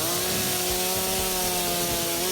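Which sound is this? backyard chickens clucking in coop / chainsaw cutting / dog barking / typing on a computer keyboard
chainsaw cutting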